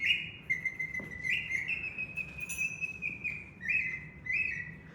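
A small two-holed bird whistle imitates birdsong, warbling sustained high tones that slide up and down in steps with quick trills, loud and close over a low background hum.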